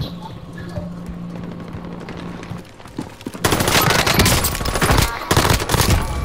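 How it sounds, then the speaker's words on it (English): Rapid gunfire in a squad-based battle royale video game, a dense burst of shots erupting after a quieter stretch and continuing loudly to the end, with some speech mixed in. "Shots over here. On the roof."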